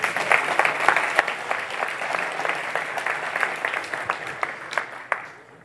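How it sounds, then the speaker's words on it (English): Conference audience applauding a speaker's introduction at a software talk, brisk clapping that fades toward the end with a few last claps. "So, your applause for Mr."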